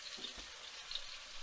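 Mixed vegetables and mushrooms fry quietly in a pan, a faint steady sizzle with scattered soft crackles and no voices.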